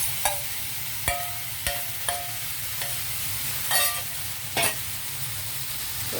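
Mutton keema with onions sizzling in a pan, stirred with a spoon that knocks sharply against the pan about six times over a steady, quiet frying hiss.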